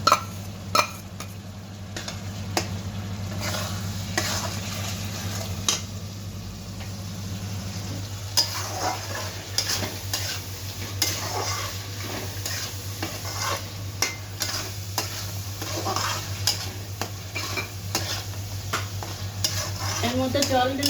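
Spice paste with Kashmiri red chilli and tomato paste sizzles and is stirred in a pan for a Bengali sea crab dish, with steady frying hiss under repeated scraping and clinking stirs, no talk.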